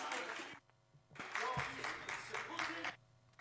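Women applauding in a council chamber during a meeting, bursts of dense clapping that stop briefly and then resume, heard from a distance under a faint room hum.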